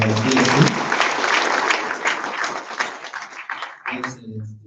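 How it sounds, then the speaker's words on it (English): A church congregation claps for someone during a service in Eldoret, a dense burst of hands that thins and becomes more scattered toward the end, with voices mixed in. "let's give a good hand clap for DSP"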